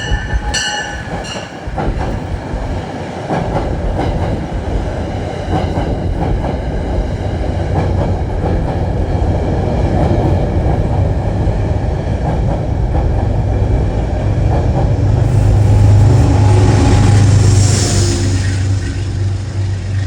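A Metro-North train rolls past in New York City, a loud sustained rumble of wheels and rail clatter with wind noise, swelling near the end into a strong wheel squeal.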